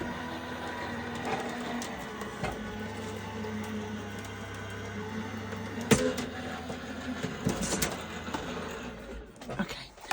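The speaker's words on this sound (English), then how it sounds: "So all my plates, take it up to my die cutting machine." A die cutting machine runs craft plates through with a steady mechanical hum and rolling grind, holding even for several seconds with a few brief clunks near the middle, fairly close and alone.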